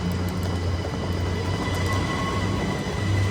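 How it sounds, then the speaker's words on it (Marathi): A train passes close by near a stop in Brussels, a steady, dense rumble with low droning hum that holds at an even level throughout, with no voices. "थांबा ट्रेनला जाऊ दे"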